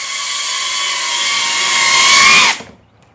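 A DJI Mavic Mini 4 Pro drone flies in to land, its steady high propeller whine growing slightly louder as it nears, then cutting off abruptly when the motors stop.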